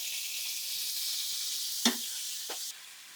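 Ground beef sizzles in hot bacon grease, a steady bright frying hiss with a couple of soft clicks of a utensil partway through, then the sizzle drops quieter near the end.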